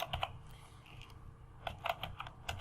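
Keystrokes on a computer keyboard while entering an address in a web browser, arriving as short irregular bursts of light clicks with pauses between them, faint and alone with no talking.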